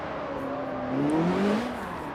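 Revving rotary engine of a drift car in the CarX Street video game, a smooth rising and falling whine held under a steady game-engine drone, loud and continuous.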